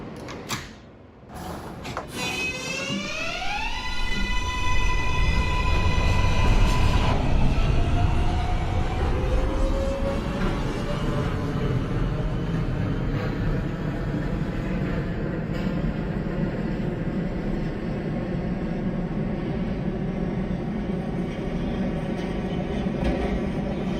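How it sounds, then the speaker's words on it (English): An NYC Subway R143 train in the OpenBVE game departs after a door sound, its motors rising in a stepped whine, then running on with a loud steady rumble and clatter. "This is a Manhattan-bound J local train."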